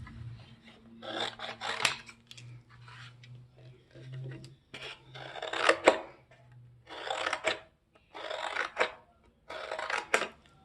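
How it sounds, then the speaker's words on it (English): Scissors or a blade cutting geometric shapes from collagraph material: repeated short rasping snips in clustered bursts, close and fairly quiet, with a low steady hum beneath and pauses between cuts. "So right now I am just cutting out different"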